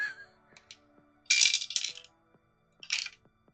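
Dice rolled during a board game tumble and clatter onto a hard surface in two short bursts of rattling clicks, with faint thin clicks between them in an otherwise quiet room.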